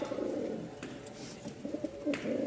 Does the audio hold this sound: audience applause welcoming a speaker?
no